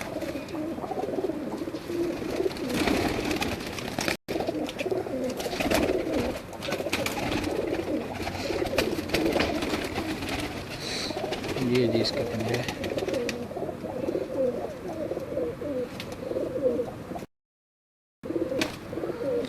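Pigeons coo steadily in the background among a flock of kept birds, soft repeated cooing layered under someone talking for most of the stretch.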